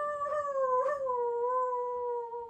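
A person imitates a werewolf howl, a single sustained wavering vocal howl with a slight rise and falling pitch near the end, close and clear with no other talk.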